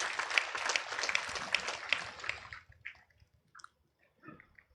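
Audience applause at a Perikatan Nasional political rally in Sepang, Selangor: a crowd clapping steadily for about two and a half seconds, then fading out to near silence with a few scattered faint sounds.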